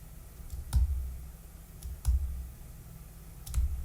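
A few sharp, isolated key clicks spaced a second or more apart, close and fairly quiet, with no talking.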